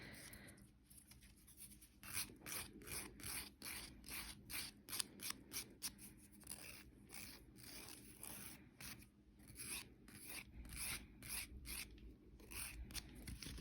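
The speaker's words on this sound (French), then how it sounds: "mais je vais le limer doucement" A nail file works across a fingernail being prepared for a resin and powder prosthetic nail, producing quiet, rapid rhythmic scratching strokes in steady bursts, close up with no talking.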